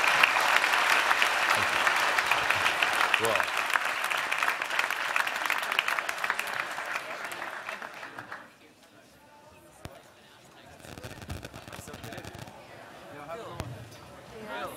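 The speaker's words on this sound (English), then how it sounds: "please, a round of applause for our guest" An audience gives a guest a round of applause after a conversation event, with dense clapping for about eight seconds that then fades, followed by quieter room noise and a few spoken words.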